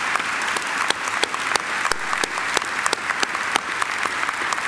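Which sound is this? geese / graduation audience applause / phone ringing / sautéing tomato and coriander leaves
graduation audience applause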